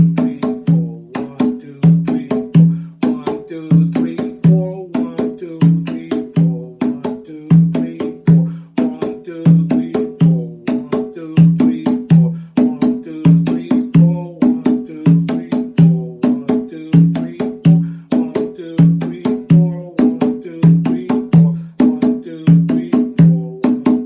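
Slow, groovy rhythm played with open tones, struck notes repeating in a steady loud pattern for a long stretch, played alone without voices.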